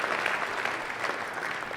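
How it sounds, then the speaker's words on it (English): Steady, dense applause from a large audience at a school district leadership meeting, an even wash of many hands clapping with no speech over it. "Let's give a round of applause"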